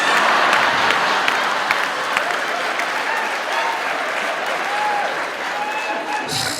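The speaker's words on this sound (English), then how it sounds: "We keep clapping on the 1 and the 4 and the 7." An audience clapping along, heard as dense, steady applause that fills the room for several seconds, close and fairly loud, with a faint crowd murmur and no distinct beat standing out.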